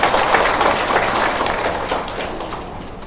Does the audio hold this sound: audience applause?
yes